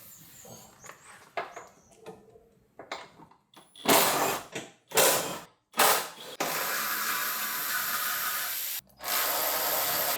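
A ratchet clicks while removing a truck's factory rock rail, first in sparse scattered clicks and then in loud, rapid runs. A long continuous stretch of whirring follows, close and clear with no talking.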